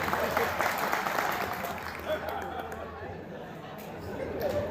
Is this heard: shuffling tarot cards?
no